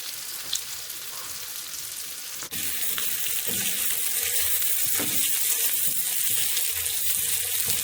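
Onions and garlic sizzle in a pan outdoors on a summer evening by a lake, a faint hiss that jumps to a louder, steady frying crackle partway through, with no talk.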